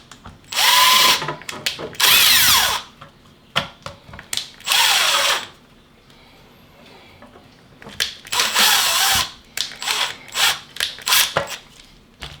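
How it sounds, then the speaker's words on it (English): A power drill bores holes into the frame of a heavy robot tank, running in a series of loud, close bursts of varying length separated by short pauses and handling noises. "Just come to the realization that I did not drill these holes yet."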